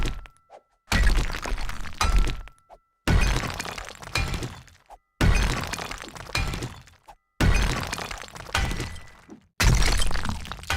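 Repeated heavy digging and block-breaking strikes in the game 7 Days To Die, five loud crunching, shattering bursts spaced about two seconds apart, each followed by brief quiet.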